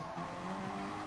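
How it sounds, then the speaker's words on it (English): A GT race car in a racing game brakes with one wheel on the grass and slides a little sideways, giving a short, steady tire scrub and engine drone, moderately loud and with no talking. "Braking on it with a wheel on the grass, yeah, will send the car a bit sideways."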